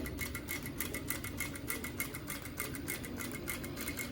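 A domestic sewing machine runs a gathering stitch along a blouse sleeve, a steady, continuous whir with rapid needle ticking, close and even throughout with no talking.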